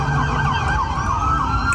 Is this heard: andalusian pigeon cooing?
no